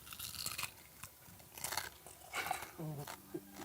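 Close crunching bites and chewing on a cooked swallow bird, eaten whole, come in several sharp bursts, with a voice speaking briefly near the end.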